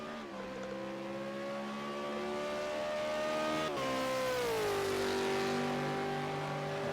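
A V8 Supercar engine in a racing game heads out on track at Bathurst Mount Panorama, a loud, steady buzzing drone that climbs, then drops and settles to a lower pitch, with no talking.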